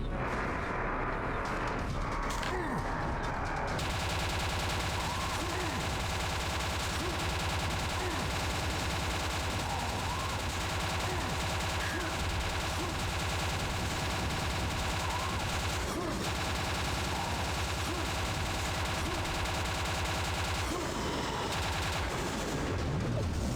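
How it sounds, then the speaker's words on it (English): ETF rifle firing in Quake 2: Ground Zero, a continuous rapid stream of shots layered over dense, loud game noise that barely changes for over twenty seconds. "I'm gonna do this with the ETF rifle because that feels right."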